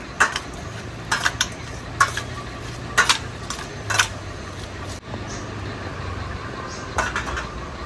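Jiol fish roe frying on a gas stove, with a steady low sizzle under repeated clinks and scrapes of a utensil against the pan, fairly close and moderately loud, with no talking.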